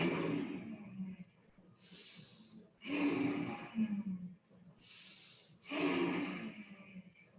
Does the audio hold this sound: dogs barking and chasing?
no